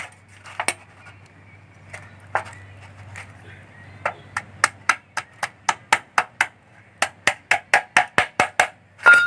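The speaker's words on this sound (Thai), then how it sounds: "เดี๋ยวเอาเหล็กตะปู นี่นะครับเหล็กตะปูเล็ก ๆ เนี่ยอ่าเดี๋ยวเย็บ เย็บด้านข้างนี่เลย" Small nails are hammered into the sides of a wooden log, a series of sharp, close metallic taps, sparse at first, then a quick steady run of evenly spaced blows.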